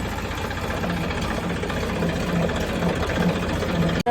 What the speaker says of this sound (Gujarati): ચાલો આપણે ટ્રેક્ટર લઈને નીકળી ગયા